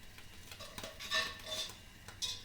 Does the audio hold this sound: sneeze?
no